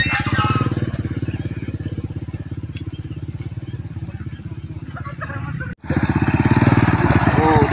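Old, worn motorcycle engine idling with a rapid, rough putter, loud and close, briefly cutting out near the end before chugging again.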